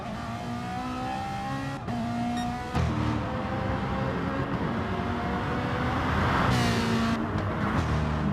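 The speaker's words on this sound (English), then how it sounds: "I love how that Ferrari sounds." A Ferrari GT race car engine in a video game screams and revs through gear changes at Spa, rising and falling in pitch, with a brief tire squeal and a loud surge near the end.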